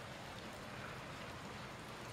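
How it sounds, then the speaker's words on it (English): Steady rain falls outside on a Sunday afternoon, a soft continuous hiss of drops spread evenly through the whole stretch with no talking. "It's raining out here right now."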